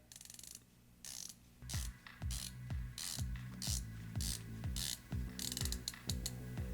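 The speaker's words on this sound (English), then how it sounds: "Very good bezel action." Bronze Zelos Mako V3 dive watch bezel turned by hand, a close, quiet series of crisp ratcheting clicks coming in short bursts with brief pauses between turns.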